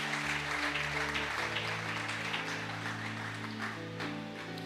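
A church congregation applauds loudly and steadily to acclaim the Lord during a sermon on firstfruits and offerings. Sustained, dense clapping runs the whole time over a backdrop of music.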